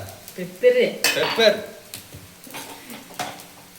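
A masala mix for street-style chicken fried rice is stirred in a pan, with clattering metal scrapes and clinks against the pan over a faint sizzle, in short uneven bursts with brief talk between.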